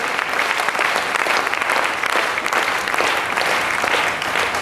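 An audience at a royalty achievers' recognition event breaks into loud, sustained applause, a dense and even wash of many hands clapping at once.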